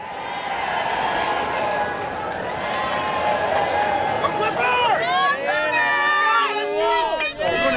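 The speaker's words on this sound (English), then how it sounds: "Great crowd on hand here tonight at Staples Center" A large basketball crowd of nearly 19,000 at Staples Center fills the arena with a loud, steady roar, and shouts and whistles rise sharply over the din in the final seconds.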